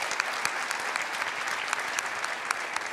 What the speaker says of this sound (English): Can we get a quick round of applause before our next pick?